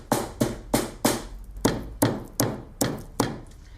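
Dried red peppers bashed in a pestle and mortar: about ten sharp, evenly spaced thuds in a steady pounding rhythm, close and clear with no talking.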